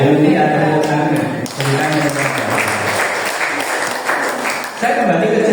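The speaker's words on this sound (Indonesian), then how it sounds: "Haleluya, tepuk tangan." A church congregation claps during a worship service, lively applause from many people running for several seconds, with a voice heard at the start and talk resuming near the end.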